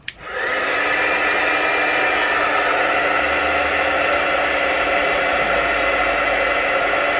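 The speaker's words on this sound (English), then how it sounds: "let's try the heat gun trick." A heat gun blows over alcohol ink on resin, starting with a sharp click and then settling into a loud, steady whooshing hiss that runs unbroken to the end.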